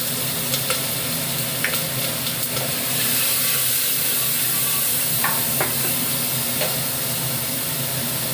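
Mixed vegetables with peas frying in a pan, a loud continuous sizzle and hiss with scattered clinks and scrapes of stirring, close up and without voices.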